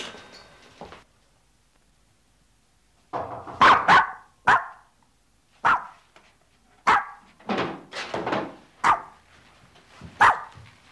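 A dog barks in a series of about ten sharp, separate barks, loud and close, after a brief opening sound and a few seconds of quiet, with no talking.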